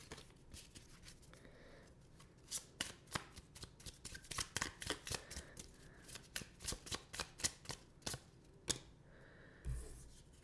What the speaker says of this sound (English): I just kind of shuffle the index cards around and randomly pick one.